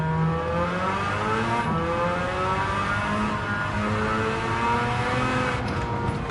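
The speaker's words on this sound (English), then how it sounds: "I have a pretty strong feeling this thing is going to need a light" A Mazda RX-7 with a rotary engine in Gran Turismo 7 revs loudly and steadily, its buzzy tone rising and sweeping across the whole stretch with no voices over it.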